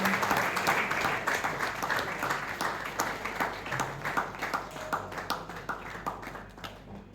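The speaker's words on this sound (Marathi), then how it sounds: "सरकारसाठी जोरदार टाळ्या" Strong applause from an audience at a training contest prize distribution, dense steady clapping that gradually thins toward the end, with a faint voice underneath.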